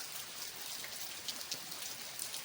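Steady rain falls through a full wet day, a dense, even hiss with scattered louder drops pattering on nearby surfaces, no voices.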